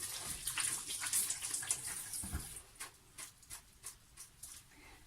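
Hands being wetted under running water in a home kitchen, with close, soft splashing and trickling that comes in short uneven bursts and then eases into intermittent drips.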